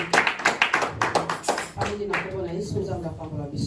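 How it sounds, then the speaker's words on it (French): A church congregation claps in a burst of quick, close applause for the word of God, then a voice speaks over the fading claps. "Nous acclamons pour la parole de Dieu au nom de Jésus"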